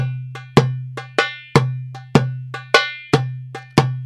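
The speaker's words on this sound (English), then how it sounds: "you can play the Khaliji too, which uses the ka just before the second doom or the first" Khaliji rhythm on a darbuka, a steady pattern of deep booming dooms and crisp ka and tak strokes, about a dozen close, clean hits played solo with no talk.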